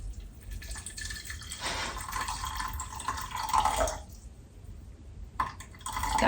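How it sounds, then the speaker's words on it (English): Water pours into a pot of foraged fruit for jam, a steady splashing stream close by that breaks off briefly and resumes, with faint clatter of the pot. "then you want to cover it with some water"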